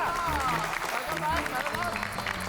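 Continuous audience applause at a comedy-show award ceremony, a steady crowd wash with voices and music layered over it.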